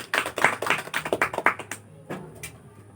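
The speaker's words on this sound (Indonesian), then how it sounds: "yang beri tepuk tangan untuk kita semua" Students in a classroom clap hands in a quick rhythmic burst of about a dozen fairly soft claps, followed by a couple of scattered claps and quiet room noise.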